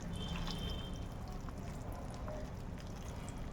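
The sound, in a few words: washing puffed rice in water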